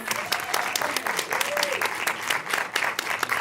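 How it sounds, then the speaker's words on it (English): A panel discussion and screening audience gives a panelist a warm round of applause, with dense, continuous clapping from a sizable crowd and a few brief whistles rising above it. "Let's give her a round of applause."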